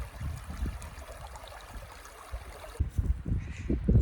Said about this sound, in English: Nice stream.